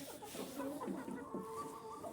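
Chickens cluck softly in a farmyard flock with a rooster among them, a few short, low calls in quick succession heard fairly faintly over quiet background noise.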